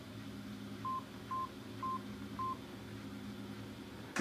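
A telephone keypad dials, giving four short, evenly spaced beep tones at moderate volume over a low background hum, with no talking.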